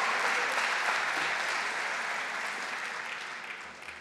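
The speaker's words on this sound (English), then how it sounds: "You should clap up for yourself." Graduation audience applauding steadily at a 2015 commencement ceremony, a dense continuous wash of clapping that stays loud throughout and tapers off only slightly near the end, with no voices rising above it.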